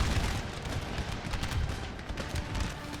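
Dense, continuous musket gunfire from massed infantry volleys in Napoleon Total War during a large siege of Vienna, heard as a rolling, crackling roar of overlapping shots without pause.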